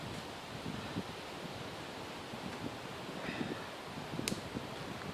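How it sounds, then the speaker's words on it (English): Steady wind blowing outdoors at a woodland camp with a poly tarp shelter, a constant broadband rush with small gusty swells and brief rustles over five seconds, no talking. "Oh, the wind's picking up, I need to get under this."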